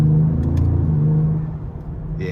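A 2025 Ford Explorer ST with its 3.0-liter twin-turbo V6 accelerating, heard from inside the cabin as a steady, loud low engine drone that eases slightly toward the end.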